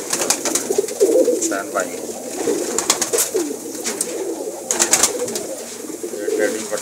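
Top-class pigeons kept by a fancier coo in soft, repeated low calls close by, mixed with rustling and handling noises while people talk over them.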